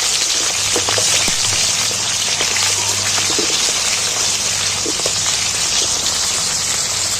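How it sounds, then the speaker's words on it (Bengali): Chopped onions stirred and frying in hot oil in a pan for a Bengali chicken curry, giving a steady, loud sizzling hiss with scattered crackles and pops throughout, no voices. "পেঁয়াজটা নাড়াচাড়া করতেছে"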